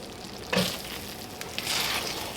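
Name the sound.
taco meat casserole filling simmering and being stirred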